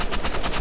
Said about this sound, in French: J'ai sorti le Desert Eagle.